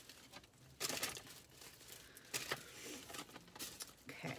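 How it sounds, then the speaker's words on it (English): A plastic shopping bag from a Dollar Tree haul crinkles in bursts close up, loud rustling flurries separated by quieter pauses, no talking. "Sorry about the crinkling."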